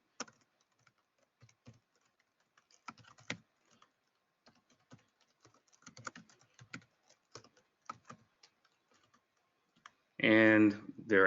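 Light, sparse clicking of a computer keyboard as an employee's name is typed into an online employer form, quiet and close, with brief pauses between bursts and a voice starting at the end.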